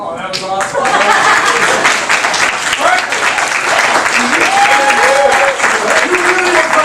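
A theatre audience at a live Shakespeare comedy show breaks into applause, a dense, sustained clapping from a full crowd with scattered laughter and whoops, while a performer speaks over it.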